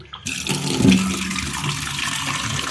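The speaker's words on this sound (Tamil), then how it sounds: "இப்போ தண்ணியை ஓப்பன் பண்ணி விட்றேன்." Cold tap water gushes steadily onto boiled eggs in a kitchen pot, a loud close splashing stream that starts abruptly and runs on without a break.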